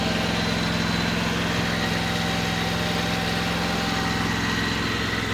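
The V-twin engine of a brand-new 2026 ATS T460 mini track loader skid steer runs at a steady idle, a close, loud, even throbbing rumble with a buzzing mechanical whine on top.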